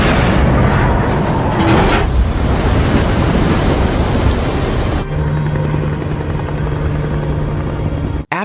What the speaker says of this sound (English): shortly afterward, the nuclear bomb exploded